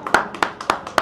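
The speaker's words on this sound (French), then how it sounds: "On applaudit très fort, s'il vous plaît." A few people clap slowly and loudly close by at a music show with singers, with four distinct hand claps spaced evenly and quiet background between them.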